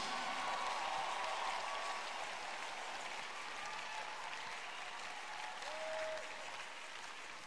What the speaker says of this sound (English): Are you clapping for Jesus?